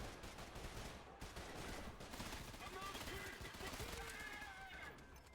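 Rapid bursts of automatic gunfire from a gun in the shooter game Trepang2, faint and dense, crackling in quick strings under a low background wash.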